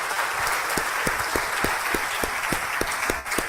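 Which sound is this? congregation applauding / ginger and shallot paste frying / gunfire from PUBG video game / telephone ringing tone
congregation applauding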